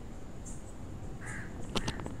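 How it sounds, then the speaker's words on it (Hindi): Crows caw in a graveyard at night, a few hoarse calls over steady dark background noise, with a tight burst of calls near the end. "अबे कौवे की आवाज़ें हैं ये चीज़"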